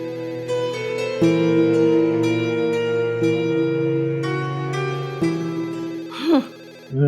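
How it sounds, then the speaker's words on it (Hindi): A telephone rings in a Pakistani drama scene at a country mansion, playing a steady, loud, melodic electronic ringtone in repeating stepped tones that fill the clip. "फोन टिडिंग टिडिंग कब से बजे जा रहा है"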